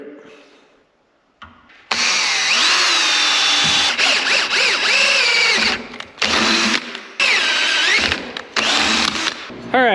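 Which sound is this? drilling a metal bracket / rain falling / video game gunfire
drilling a metal bracket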